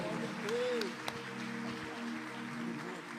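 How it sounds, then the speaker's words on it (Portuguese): A church congregation claps for the Lord during a worship service, a faint, steady wash of applause with a brief whistle-like tone near the start. "Dá uma linda salva de palmas ao Senhor"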